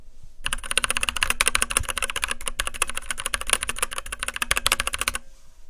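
Rapid continuous typing on a Havit KB-389L mechanical keyboard with Kailh brown switches, a dense close-up clatter of keystrokes for about five seconds, with no talking.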